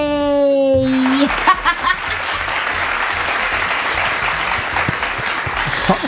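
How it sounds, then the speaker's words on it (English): Studio applause on a breakfast show, a tone followed by a burst of clapping that continues steadily at moderate loudness, with light laughter mixed in. "Please clap hands for me"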